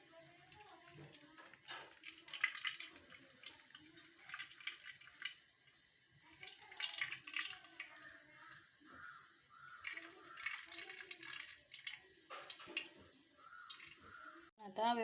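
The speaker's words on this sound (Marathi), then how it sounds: "आता आपण गाळून घेऊया।" Blended mint, coriander, chili and ginger pani puri water is strained, giving soft liquid trickles and drips scattered over about fifteen seconds while a person talks throughout.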